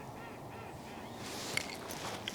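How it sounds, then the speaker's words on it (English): Geese and ducks, including mallards and wood ducks, call from across a marsh before daylight, distant honks and quacks faint over a steady background hiss, with one sharper call near the middle. "As we sat and waited for daylight, we could hear mallards, wood ducks,"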